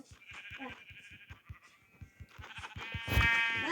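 A sheep in a Minecraft-style survival game gives a string of nasal bleats with short clicky footsteps or taps beneath, ending in a louder, closer bleat.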